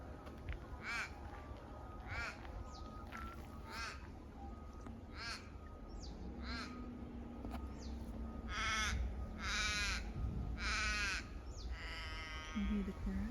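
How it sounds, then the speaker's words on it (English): Several crows caw repeatedly outdoors in a hilly garden, harsh calls in irregular bursts over steady background noise, with a faint sheep-like bleat and a brief low murmur of talk. "Can you hear the crows?"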